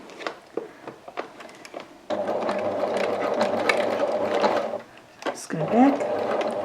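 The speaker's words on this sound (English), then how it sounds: "we're going to top stitch it all around the top edge now" A sewing machine top stitching the top edge of a Halloween trick or treat bag, a steady close whir for a few seconds between short clicks and handling sounds, with a voice speaking briefly near the end.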